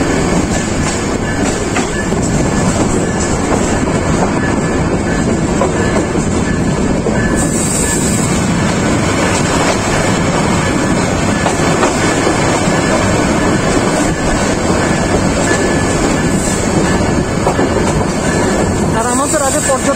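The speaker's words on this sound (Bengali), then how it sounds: "আর আমরা এখন ঢাকা বিমানবন্দর ক্রস করতেছি" Sonar Bangla Express passenger train running past Dhaka airport, heard from inside as a loud, steady rumble with rhythmic clickety-clack of wheels over rail joints and brief wheel squeal, continuous throughout.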